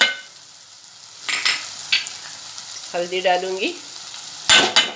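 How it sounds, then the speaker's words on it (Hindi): Chili masala and turmeric frying in a pan with softened tomatoes over medium heat, a steady sizzle with bursts of stirring and scraping, while someone speaks briefly mid-clip. "ये मसाले को थोड़ा भूनूंगी खुशबू आने तक"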